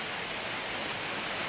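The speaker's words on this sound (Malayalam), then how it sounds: "ഭയങ്കര മഴ, നല്ല കാറ്റ്," Heavy rain with strong wind roars as a dense, steady wash of noise, loud and unbroken, with no voices.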